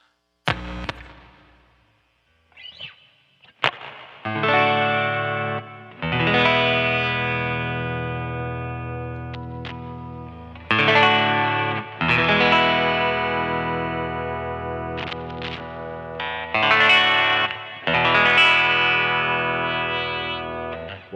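A 1982 Japanese-made Fender Stratocaster plays chords that ring out through heavy distortion and effects, several sustained strums with short gaps between them, loud and close.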